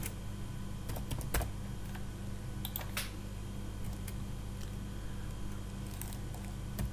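Typing on a computer keyboard: scattered, sparse keystroke clicks over a steady background hum, with no talking.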